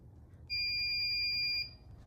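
A hobby mug press timer for sublimating photo mugs gives one long, steady electronic beep of about a second, loud and piercing against a quiet room.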